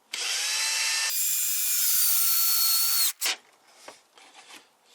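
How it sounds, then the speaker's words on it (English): A cordless power drill drives a screw while building a plastic bottle string cutter, whining loudly and steadily for about three seconds with a pitch shift partway through, then stopping and giving way to faint handling clatter. "Sink another screw in."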